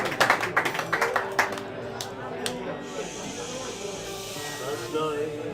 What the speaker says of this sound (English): Let's have a nice big round of applause for Matt.